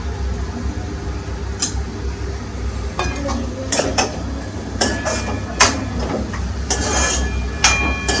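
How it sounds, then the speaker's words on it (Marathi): A potato is stirred into Malvani prawn sukka masala, with a utensil clinking and scraping against the pot in scattered bursts over a constant low hum and soft background sizzle. "बटाटा छान मिक्स करून घेऊया"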